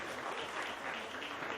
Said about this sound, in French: Ça prend une bonne main d'applaudissements.